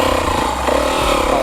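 Enduro motorcycle engine pulling a small wheelie, a loud close buzzing drone with a brief surge of revs midway, steady and continuous throughout.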